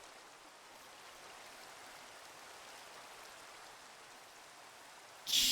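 Steady Minecraft rain falls as a soft, even hiss across the whole stretch, with a brief louder burst right at the end and no talking.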